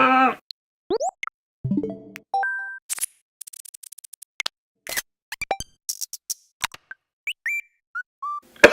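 Nintendo Switch console menu sounds: a sparse series of crisp clicks, soft pops, short chimes and bright blips, isolated taps separated by silence, close and clean.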